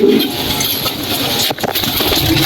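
Pigeons in a loft of a successful Indonesian racing-pigeon breeder, with low cooing and bird calls rising steadily over continuous loft noise throughout.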